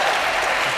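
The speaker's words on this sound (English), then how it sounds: "Give him a round of applause, ladies and gentlemen." A studio audience at a Catchphrase game show taping at the Edinburgh TV Festival applauds, a loud, dense, continuous roar of clapping under a second long.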